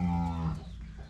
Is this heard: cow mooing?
yes